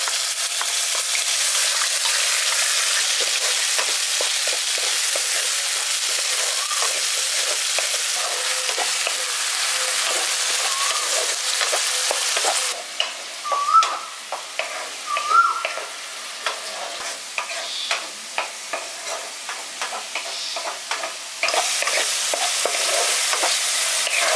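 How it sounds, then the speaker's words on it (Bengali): Onion paste frying in a hot pan for a village-style dahi pabda fish curry, a steady close sizzle with a spatula scraping and stirring through it, loud and continuous. "পেঁয়াজের পেস্টটা দিয়ে দেওয়ার পর হালকা করে ভেজে নিয়েছি"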